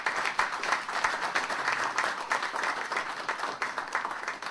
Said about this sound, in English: I would like you to give them a round of applause.